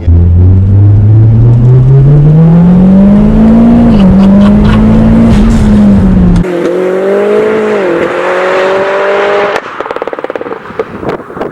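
A tuned 540bhp Mitsubishi Lancer engine revs hard and climbs in pitch as it accelerates, shifts, then pulls again up close.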